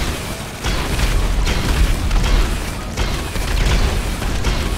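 Repeated heavy booms of bombs going off in a video game, a loud dense rumble that swells in bursts across the whole stretch with no voices over it.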